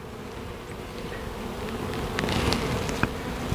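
Honey bees buzz steadily around a hive box, a dense continuous drone with occasional louder passes from individual bees close by.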